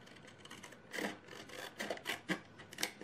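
A craft knife cuts through paper card for a pop-up Valentine's card, making short, faint scraping and rasping strokes with a close, dry texture, several in quick succession.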